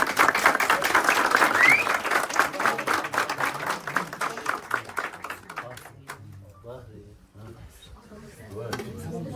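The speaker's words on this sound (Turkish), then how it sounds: "bir alkışlar" A small group at a Turkish family gathering gives a dense round of hand clapping that fades into scattered claps and murmured talk.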